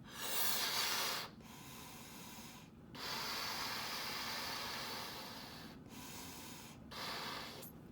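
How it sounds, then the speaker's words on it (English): A rubber balloon is inflated by mouth in an art studio, heard as several long rushing breaths, each separated by a short pause, close to the microphone and fairly quiet. "We're going to start by blowing the balloon out."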